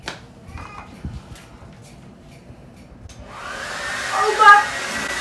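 A hair dryer loaded with baby powder as a prank roars loudly nearby, a broad steady whoosh that swells stronger partway through, with a voice briefly heard.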